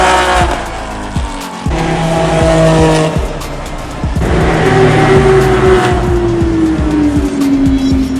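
A drift car run by Vin, the Drift Car 350, tears around the Homestead-Miami Speedway, its engine roaring loud and close while the tires squeal in long drawn-out howls through the corners.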